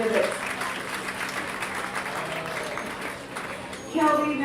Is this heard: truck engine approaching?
no